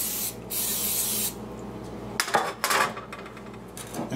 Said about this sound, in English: Spray your pan with